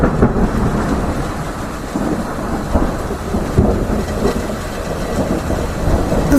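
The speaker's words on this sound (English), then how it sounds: "the rumbling became louder than ever before. The sky turned dark and lightning danced across the sky" Deep, continuous thunder rumbles loudly through a dark storm, with steady rain hiss beneath and a few sharper cracks breaking through the low roll.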